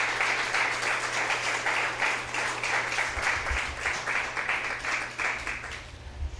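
A church congregation claps together in a steady, rhythmic burst of applause, the loud clapping filling the room and slowly trailing off toward the end.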